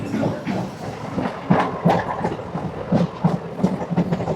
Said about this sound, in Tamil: நம்ம பேசிகிட்டே இருக்கும்போது ட்ரெயின் வந்துச்சு.